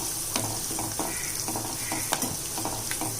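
Garlic sautéing in oil for a tomato dal tempering, a constant close sizzle broken by light scrapes and taps of a stirring spoon, steady and unbroken with no voices.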